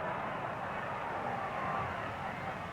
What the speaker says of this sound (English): Crowd begins to buzz again.